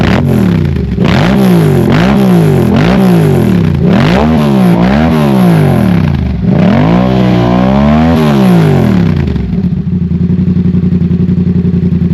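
A Yamaha R7 motorcycle with a newly installed M4 exhaust revs loud and close, a string of quick throttle blips followed by longer rising revs, then settles to a rough idle.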